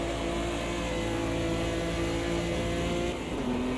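Six-cylinder race car engine in the sim racing game AMS2 (Automobilista 2) sustains a loud, steady high-rev drone with stable harmonics, then the pitch drops briefly near the end as the revs change, with no talking.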